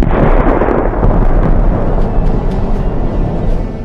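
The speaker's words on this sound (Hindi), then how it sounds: "बम का धमाका इतना जोरदार था कि सभी दहल गए।" A bomb goes off accidentally, heard as a loud, sustained blast with a deep rumble that fills the whole stretch and slowly fades.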